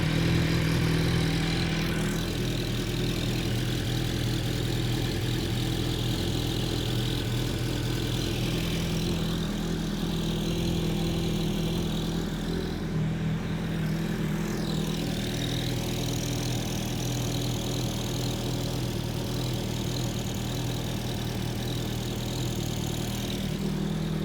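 An MV Agusta F4 motorcycle fitted with a Termignoni full race exhaust idles while warming up, a steady, loud, throaty engine drone with low rumble that holds evenly throughout, wavering slightly now and then.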